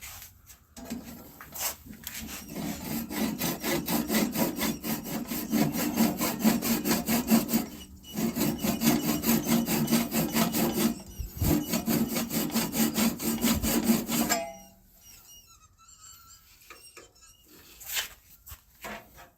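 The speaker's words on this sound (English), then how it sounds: "so let's part this off the lathe" A segmented wooden bowl is parted off a lathe with a tool, giving a loud, steady rasping cut for about fourteen seconds with one brief pause before the cut ends, followed by quiet handling noises.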